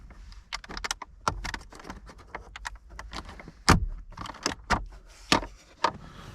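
The flip-up clip on a Ford Focus instrument cluster is worked loose, producing a close series of sharp plastic clicks, snaps and knocks at an uneven rhythm.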